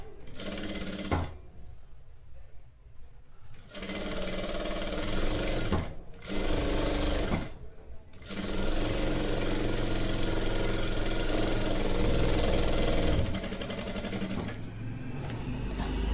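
A Jack F4 industrial sewing machine stitches in several runs of steady, fast mechanical whirring, broken by short pauses between bursts, loud and close with no talk.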